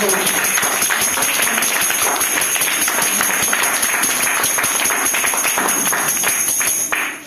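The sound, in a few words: congregation clapping hands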